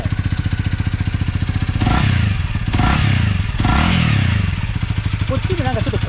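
A Honda CL250 motorcycle engine idles with a rapid, throbbing exhaust pulse through its muffler, then revs up several times in loud bursts before settling back to a steady idle.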